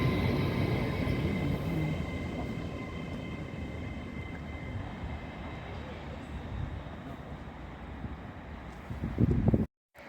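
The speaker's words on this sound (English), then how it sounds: "now approaching in through platform 1 here at Northallerton will be the Lumo service from Edinburgh to London King's Cross" A Lumo train from Edinburgh to London King's Cross pulls in through platform 1 at Northallerton station, a steady loud low rumble of wheels and engine that holds throughout, swelling slightly near the end before cutting off abruptly.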